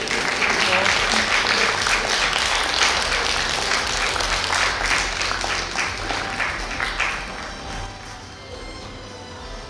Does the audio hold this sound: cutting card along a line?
no